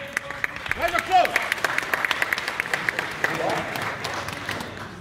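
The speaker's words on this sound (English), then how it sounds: "Round of applause." An audience at a German comic con panel with Jean-Claude Van Damme breaks into applause: dense, crisp clapping from many hands, fairly near, with brief talk at the start.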